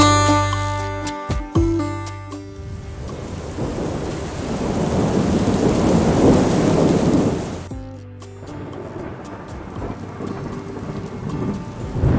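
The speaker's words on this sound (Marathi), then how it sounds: "पावसानं पुन्हा एकदा नव्या दमानं सुरुवात केली." Heavy rain roars steadily at Darya Ghat, a mountain pass near Junnar, while deep thunder rumbles and swells through the middle, then the downpour continues alone, loud and close.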